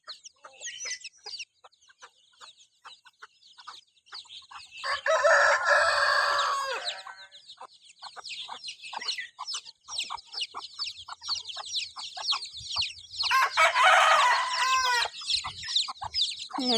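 Outdoors, a hen clucks near her chicks with steady, close clucking, interrupted by two loud bursts of rooster-like crowing or squawking, while faint chick peeps continue through the pauses.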